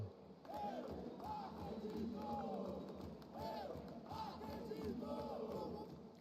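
A large arena crowd at a Counter-Strike match roars and chants in rising waves, loud and sustained, with a commentator's voice talking over it.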